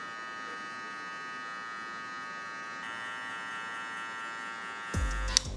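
Electric hair clippers fitted with a half guard, lever set at the three-quarter spot, buzz steadily and closely during a mid drop fade, the tone roughening into rasping cutting contact near the end.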